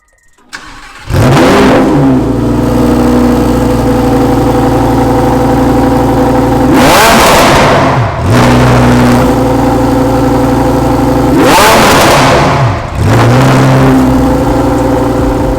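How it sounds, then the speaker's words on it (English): A Lamborghini Huracan Evo RWD engine fires up loudly after a brief quiet moment, settling into a deep idle broken by two strong revs that rise and fall, close to the car. "it's time to start up the car and give you a feel of that"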